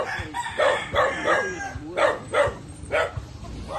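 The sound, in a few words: rooster crowing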